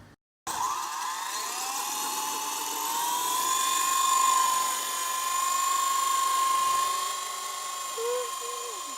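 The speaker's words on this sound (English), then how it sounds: "WLToys V913. Awesome helicopter." A WLToys V913 RC helicopter flies steadily nearby, its high electric rotor whine holding a constant pitch and swelling slightly in the middle before easing off, then briefly wavering near the end.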